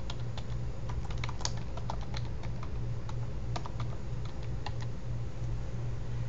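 Fingers type text on a computer keyboard in a steady, continuous patter of close, crisp key clicks, with no voices throughout.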